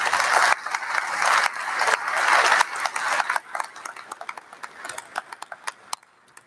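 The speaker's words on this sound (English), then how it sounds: "Please give them a round of applause for all they do." Dense crowd applause at a college commencement ceremony, a steady wash of clapping for several seconds that thins into scattered individual claps before fading.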